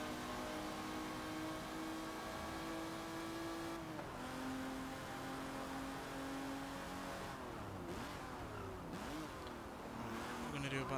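Race car engine in Forza Motorsport 7, a steady droning whine that holds its pitch, dips at a gear change, then wavers and shifts as the car chases a Porsche, continuous and close with possible faint talk underneath.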